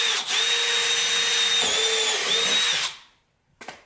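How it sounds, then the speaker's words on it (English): A power drill bores a hole for mounting a car horn on a BMW E90, running loud and steady for about three seconds with slight pitch dips, then stopping, followed by a brief clatter. "So I figure I can drill a hole right there,"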